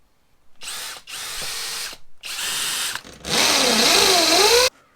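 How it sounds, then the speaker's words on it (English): Power drill boring holes into a wall to mount a bracket for a Harley-Davidson Sport Glide fairing: three close, loud bursts of whirring, the last longest and rising in pitch as it bites. "offer it up, drill some holes, and screw it in"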